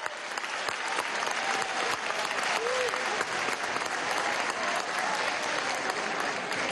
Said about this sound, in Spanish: Un aplauso a los bioanalistas de la República.